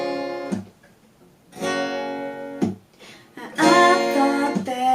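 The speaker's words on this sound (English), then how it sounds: "Our next beginner strumming pattern that I'm going to show you is a down strum, so like we just did, followed by a mute." An acoustic guitar plays a beginner strumming pattern: a ringing down strum, then a sharp percussive mute that cuts the chord off, repeated several times alone and close up.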